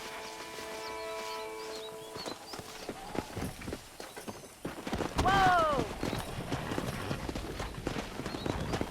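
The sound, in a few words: wild horses galloping in video game Red Dead Redemption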